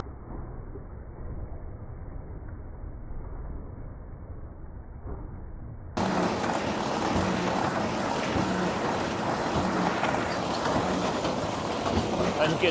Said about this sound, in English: you can hear it doing all the knotting and compacting as that bale comes through